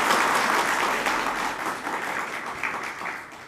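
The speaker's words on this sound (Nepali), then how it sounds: "जसरी अहिले तपाईँहरूले ताली बजाउनु" Audience applauding at a political speech in Nepal, a dense continuous wash of clapping from a large crowd, strongest at the start and easing slightly while staying sustained throughout.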